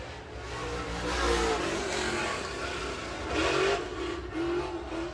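Late model race car number 33 roars through a qualifying lap at Spoon River Speedway, engine revving and swelling as it passes, then fading and rising again at moderate distance.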